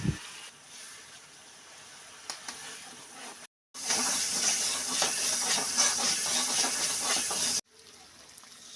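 Onion, garlic and ginger paste hits a hot wok after frying fish, giving a loud, steady hiss and sizzle that cuts out briefly and then resumes.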